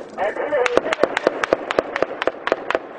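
Rapid bursts of gunfire during combat between French troops and Taliban fighters in Afghanistan, a steady string of sharp cracks about every quarter second, fairly close and loud, with voices talking over the shots.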